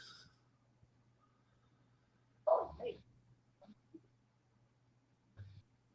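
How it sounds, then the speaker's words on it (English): A dog barks once or twice indoors at some distance, with a short yelp followed by quieter scattered sounds and a low steady hum underneath. "I got dog barking over here"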